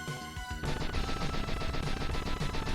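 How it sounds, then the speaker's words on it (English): Big explosions go off in the Mega Man 7 video game as robot masters attack the prison. A dense burst of booming blasts fills the whole stretch, loud and continuous after a short lead-in. "They have mighty big explosions."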